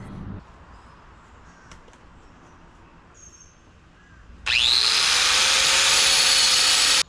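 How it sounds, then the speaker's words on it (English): A crow caws in quiet outdoor air, then an angle grinder fitted with a narrow masonry wheel spins up loudly, screaming steadily as it cuts Portland cement mortar joints between old soft bricks. "I'm using a narrow masonry wheel to cut the mortar joints"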